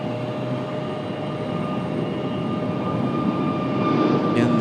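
A 2022 Airbus A321 jet airliner departing Raleigh-Durham for Los Angeles makes a steady, distant engine roar with a faint whine, swelling slightly toward the end.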